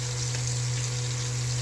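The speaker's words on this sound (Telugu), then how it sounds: "లివర్ ఫ్రై చేసుకుందాం. జాగ్రత్తగా ఫ్రై చేయండి, లివరు పేలుతాయి." Liver pieces fry in hot oil for a liver pickle, giving a steady, dense sizzle with a constant low hum underneath and no voices.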